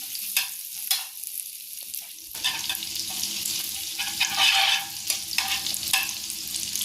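Butter melting in a hot pan for a cheese sauce gives a soft, close sizzle that starts after a brief quiet stretch and continues steadily, with a few sharp scrapes or clicks on top.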